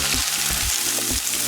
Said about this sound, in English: Put in onions.